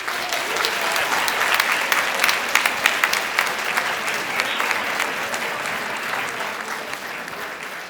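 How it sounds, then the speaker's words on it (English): Audience applause for Henry Winkler at a luncheon, a dense, steady wash of many hands clapping that holds strong throughout and eases only slightly toward the end. "Another round of applause for Mr. Winkler"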